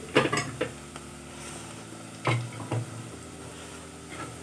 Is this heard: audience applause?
no